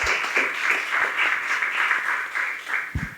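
An audience at an architecture talk applauds architect Segami, a steady round of clapping from a room of people lasting a few seconds, with a faint voice near the end.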